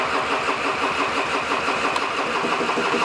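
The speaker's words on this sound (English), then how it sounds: "Hey, she cranks." A 1980s Honda Lead NH125 scooter engine under restoration cranks over in a steady, continuous whir, loud and close, with no voices over it.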